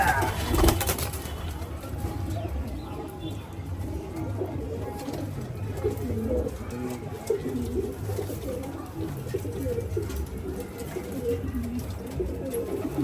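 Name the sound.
pigeons cooing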